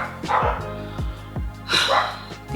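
Dogs bark in a quick run of sharp, close barks, several in under three seconds, with a brief louder burst near the end.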